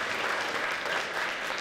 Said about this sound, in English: Have it a round of applause